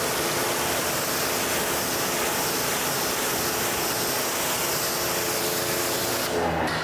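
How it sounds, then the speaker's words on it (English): A pressure washer's steady broadband spray hisses continuously onto a Chevy Tahoe wheel while a quick-beads protectant is sprayed into the water stream, close and loud with no speech. "And I'll spray the quick beads into the stream of the pressure washer."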